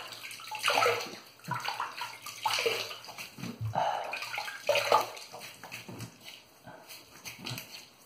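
Water splashes in several short bursts as hands wet a face at a sink before a shave with a Palmolive shave stick and Omega boar brush, close and fairly loud with pauses between.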